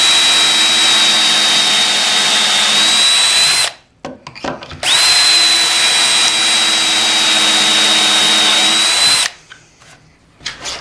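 A power drill bores pocket holes in scrap lumber through a Kreg jig, two loud sustained whining runs of several seconds each, separated by a brief pause with small clicks and handling noises.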